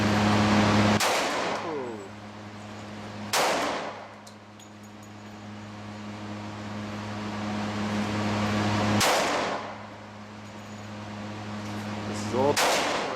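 Four loud, sharp shots from a Glock 20C 10mm pistol at an outdoor range, spaced a few seconds apart, each cracking hard over a steady low mechanical hum. A voice briefly exclaims.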